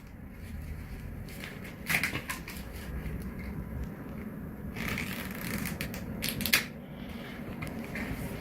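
Pages of a hand-drawn paper flipbook cartoon riffled in quick fluttering bursts, two main runs of rapid papery flicks, close and fairly quiet over a faint background hiss.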